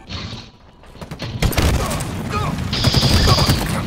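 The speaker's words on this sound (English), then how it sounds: "Dude, this shotgun is dirty." Shotgun blasts and other gunfire in Halo Infinite multiplayer come in a rapid cluster of sharp bangs, loud and close, with a voice speaking in between.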